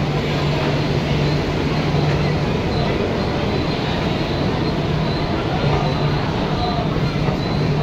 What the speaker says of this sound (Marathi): AC लोकल आलेली आहे.